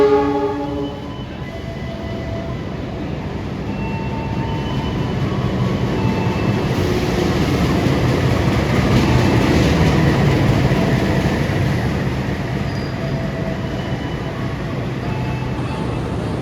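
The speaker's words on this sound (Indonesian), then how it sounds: "Ini ada kereta Joglo Semarkerto baru masuk di stasiun Tugu Yogyakarta." A Joglo Semarkerto train rumbles steadily into Tugu station in Yogyakarta, loud and close, with a brief horn tone at the start and a constant rolling clatter.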